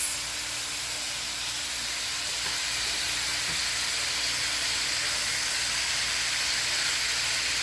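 Red onions fry in a hot pan with a steady, close sizzle and hiss that holds unbroken the whole time, with no talking over it.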